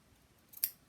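Scissors snip fabric once for a homemade medical mask: a single short, crisp cut, close and fairly quiet, with near silence before it.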